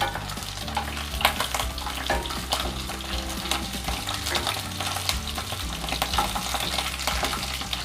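Potatoes being stirred and fried in a pan for spicy dum aloo, a steady close sizzle with repeated scraping stir strokes throughout and no voices.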